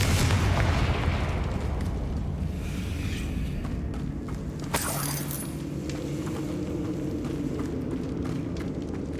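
A spell explosion in the Hogwarts Legacy video game rumbles in a steady, loud blast-filled roar, with a sharp burst near the middle and rolling booms after it, and no talk.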